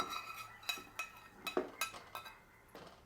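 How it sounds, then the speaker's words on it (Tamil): Quiet kitchen clinks and scrapes as a tempering pan with asafoetida is emptied into curd rice, several light metallic taps and clatters spaced irregularly, faint and close. "இப்போ நான் இதை எடுத்து அப்படியே தயிர் சாதத்தில் கொட்டிடலாம்."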